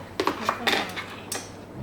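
Dishes being washed by hand in a Thai home kitchen: several light clinks and clatters of plates and cutlery against each other, with running-water wash noise, close and moderately loud, no talk.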